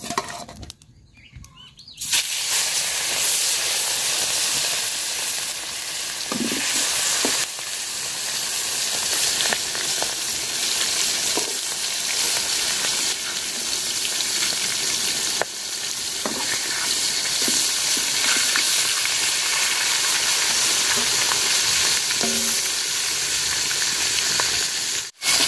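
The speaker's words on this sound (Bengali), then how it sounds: "তেল দিয়ে দিলাম মাছের মাথা ভাজার জন্য।" A fish head coated in turmeric and salt fries in hot oil, a loud steady hissing sizzle that begins after a short quieter moment, with a few faint stirring knocks.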